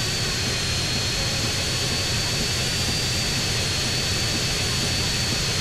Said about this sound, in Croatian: Oh, avion!